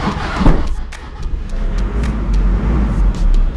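A Toyota Innova Crysta drives to a washing bay, its engine a steady low hum with road noise, rising briefly near the start and again toward the end, close and loud with no talking.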